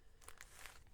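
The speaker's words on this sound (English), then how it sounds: "I'm going to apologise now for all the rustling that's going to happen because everything is in plastic bags" Plastic bags holding wool fibre being handled and crinkled up close, a few bursts of crisp rustling and crackling over a quiet room, no talking.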